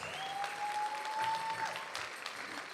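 An audience at the Seminole Tribal Fair applauds veterans with a short burst of steady clapping from a crowd, with a brief whistle-like tone rising above it.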